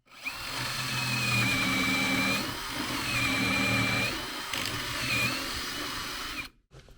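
A handheld power drill whines steadily in several sustained bursts, boring concealed hinge holes in a cabinet door, pausing briefly between them, close and loud, then cuts off abruptly.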